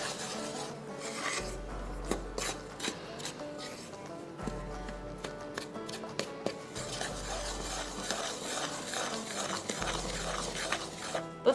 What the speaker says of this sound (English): now I'm just going to mix all of this together. These are like our dry ingredients.